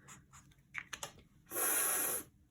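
A marker or pencil writes the letter F by hand, giving a few short scratchy strokes followed by one longer, louder continuous rubbing stroke close up, then quiet.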